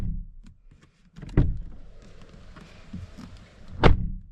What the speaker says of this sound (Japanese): ドアを閉めた音は